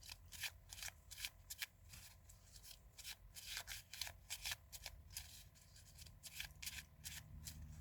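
Playing cards are shuffled by hand in quick, crisp riffling bursts, repeating irregularly at close range and fairly quiet, with no talk over them.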